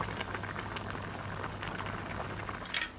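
Thai sour curry with catfish roe boils hard in a pot, giving a steady close bubbling and popping that runs continuously at moderate volume, with no speech.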